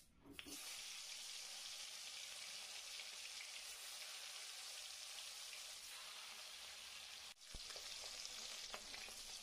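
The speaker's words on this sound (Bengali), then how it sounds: "এবার মাছগুলো এর মধ্যে দিয়ে ভালো করে এপিট ওপিট করে ভেজে নেব।" Koi fish fry in hot oil with a loud, dense, continuous sizzle and crackle that runs throughout, with one brief clatter near the end.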